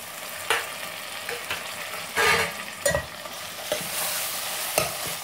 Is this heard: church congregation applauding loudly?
no